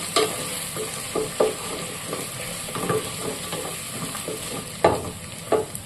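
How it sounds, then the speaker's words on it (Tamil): Oil sizzles steadily as green chillies fry for chicken biryani, with scattered spatters and light stirring clatter throughout, close up and without talk. "சேர்த்து பச்சை மிளகாயை எண்ணெயில் நல்லா வதக்கிடுவோம்"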